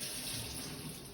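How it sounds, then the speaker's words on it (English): A tap runs in a steady, unbroken stream as hands are washed before a sterile veterinary nursing procedure, a close, even gush of water with no talking. "what I'm going to do first is just wash my hands"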